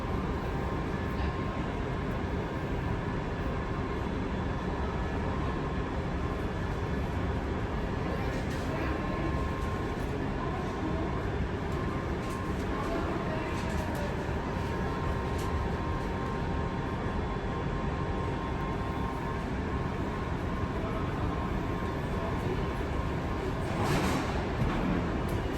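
A London Underground Piccadilly line train stands held at a station, a steady broadband rumble and hum of equipment running continuously with occasional faint clunks and a voice briefly audible underneath.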